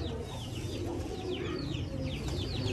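Pigeons kept by a pigeon fancier, with repeated cooing and fluttering bird calls over a steady outdoor background, fairly close and continuous.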